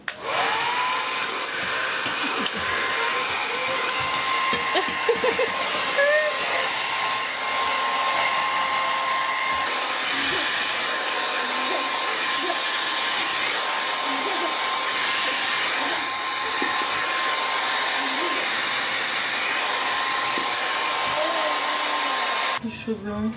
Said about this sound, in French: et les sèche-cheveux